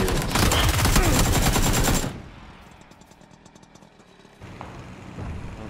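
Rapid automatic gunfire from PUBG, a loud dense burst for about two seconds that gives way to quieter in-game ambience with softer engine-like rumble and distant shots.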